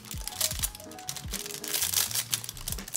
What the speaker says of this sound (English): I guess I am gonna have to rip it right there.